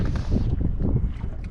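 Cold wind gusts across a river at night, a steady rough rushing and buffeting close to the microphone, with low rumbling and no clear speech.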